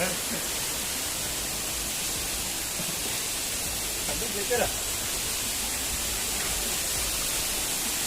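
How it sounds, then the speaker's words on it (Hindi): A steady, broad rushing roar of water fills the scene at the Rani Jharna waterfall in Korba, Chhattisgarh. It holds constant and close throughout, with a brief bump partway through. "आइए आपको झरना दिखाते हैं"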